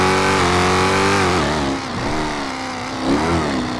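A Hemi-engined car in GTA 5 revs with a loud, rich, steady engine note that dips and rises slightly in pitch over a few seconds, heard close with no talk.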